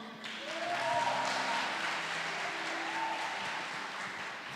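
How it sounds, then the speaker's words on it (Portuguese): Audience applause breaks out at a live worship gathering, a dense, steady wash of many hands clapping that holds at an even level for several seconds. "Dá uma salva de palmas para eles"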